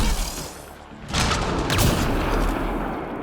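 Gunfire in the video game Mass Effect Andromeda, a dense burst of heavy booming shots over a rumbling background.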